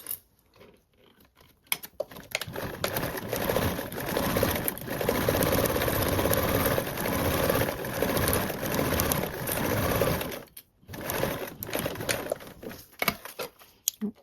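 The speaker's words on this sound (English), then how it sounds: "Now we can sew this on with a 1/4 seam allowance." A sewing machine stitches a bag lining with a quarter-inch seam allowance, its steady mechanical whir running nearly continuously at close range with brief pauses near the start and end.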